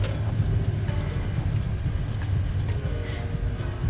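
Steady low rumble of a manual car driving through Medellin, Colombia, with road noise in the background and faint ticks and clicks scattered across it, and no talking.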